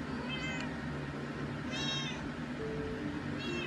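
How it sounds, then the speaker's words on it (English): A cat meows three times in short, clear calls spaced about a second apart, close to the listener, over a steady background hum. "And there you go, and there's the cat."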